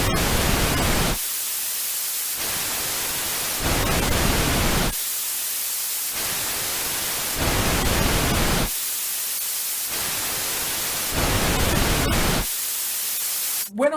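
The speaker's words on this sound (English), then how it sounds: "When I think of white noise, I think of that fuzz on the TV." Bursts of loud hissing white noise alternate with quieter stretches of softer noise weighted toward higher frequencies, switching roughly every second and a quarter, with a brief click at the end.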